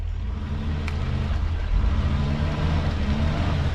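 Heavy expedition truck on Trilex rims grinding through a mud bog, a deep steady engine drone that swells slightly as it pushes on, close and loud with no talking.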